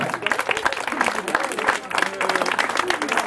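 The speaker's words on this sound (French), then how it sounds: "Je demande de l'applaudir." A crowd applauds third-place cyclist Enzo Capitano after a circuit road race, continuous mid-distance clapping and cheering blended with a voice over a loudspeaker.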